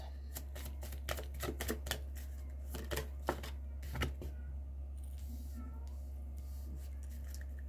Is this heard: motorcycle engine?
no